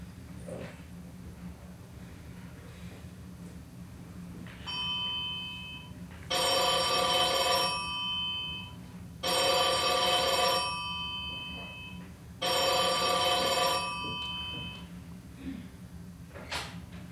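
Old-style telephone bell ringing in a bar, with three loud, long rings spaced a couple of seconds apart over quiet room ambience and a shorter partial ring just before them.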